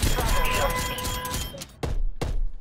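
Gunfire in an online shooter video game, sharp broadband bursts landing near 1.8 and 2.2 seconds, loud and close, following a stretch of dense game noise with someone talking over the action.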